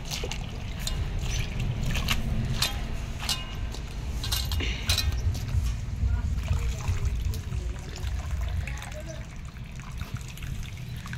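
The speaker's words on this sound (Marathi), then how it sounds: "पाणी बाकी चांगले धुवा आता 2 पाण्याने स्वच्छ" Water splashing and trickling in a basin as red leafy greens are rinsed of mud by hand, with occasional light clinks, fairly close and soft.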